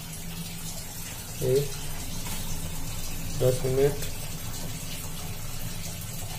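Water pours continuously into the tub of an LG top-loading washing machine as a soft, steady rush, and someone speaks briefly over it twice.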